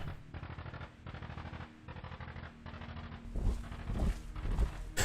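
Rapid bursts of machine gun fire in a WWII tactics video game, with two guns firing repeated rattling volleys that grow louder and heavier toward the end, alongside booming impacts.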